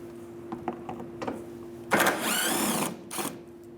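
A power driver whirs briefly to loosen a 10mm bolt on a 2015-2019 Hyundai Sonata grille, one close burst of about a second after a few light clicks of the tool being handled, then a short second spin.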